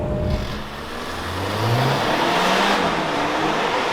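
A 2021 Mercedes E350 4Matic executive sedan with a 2-liter turbo mild-hybrid engine accelerating, its steady engine note rising in pitch under a loud, continuous whoosh of road and wind noise.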